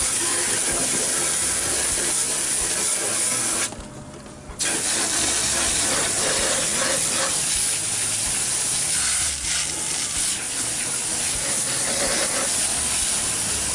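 A loud, continuous hiss of water spray washing air conditioner fan blades runs almost the whole time, with one short break before it resumes.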